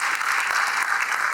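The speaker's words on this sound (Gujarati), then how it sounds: "એકવાર જોરદાર તાળીઓથી વધાવો" Audience applause at a nursing exam guidance seminar in Rajkot, a dense steady wash of clapping from a seated crowd, loud and continuous for the whole moment with no voices over it.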